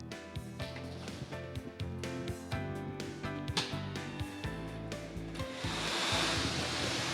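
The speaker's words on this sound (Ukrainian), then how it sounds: "Вмикаємо лототрон." A lottery drawing machine for the Megalot draw starts up, its motor and air blower whooshing while music plays, and the rushing noise swells near the end.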